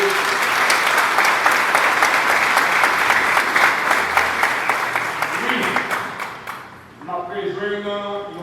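A church congregation applauds at a harvest festival service, a dense, loud wash of clapping that holds steady for several seconds, then thins out and gives way to a voice and tonal sounds at the end.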